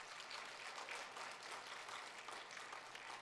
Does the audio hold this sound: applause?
yes